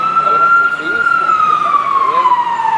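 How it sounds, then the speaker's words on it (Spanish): An emergency siren, taken for an ambulance, holds one long steady wailing tone that dips slightly in pitch toward the end, loud and continuous across the whole stretch with no talk over it. "¿Qué pasa, la ambulancia?"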